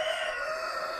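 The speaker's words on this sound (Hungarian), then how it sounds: "Ott a kakas." A rooster crows in a farmyard, a sustained, strained call heard at moderate distance over faint background noise.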